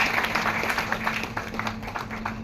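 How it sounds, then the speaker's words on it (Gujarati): A crowd at an outdoor World Bamboo Day celebration event in Gujarat applauds to welcome the chief guests, a steady dense patter of clapping held throughout at moderate level. "તાળીઓના ગડગડાટથી વધાવી લઈશું આપણા મુખ્ય મહેમાનોને"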